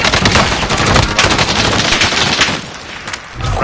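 A light machine gun fires a long, rapid, continuous burst in a PS4 shooter, loud and close, with the rattle dipping briefly near the end before resuming.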